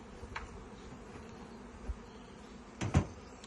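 Steady low buzzing of many honey bees at a hive drones throughout, with a couple of soft knocks toward the end.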